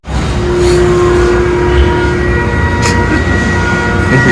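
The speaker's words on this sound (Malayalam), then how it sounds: "ഇവിടുന്ന് ഏഴ് മണിന്റെ ട്രെയിനാണ് പോകുന്നത് കൊളംബോയിലേക്ക്" A loud, steady rumble of a train at a Sri Lankan railway station, bound for Colombo, a continuous heavy roar with faint squeaks and rattles layered on top.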